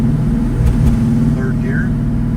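A Chevrolet Malibu drag car accelerates in second gear, with a steady loud engine drone heard from inside the car and a voice speaking briefly over it.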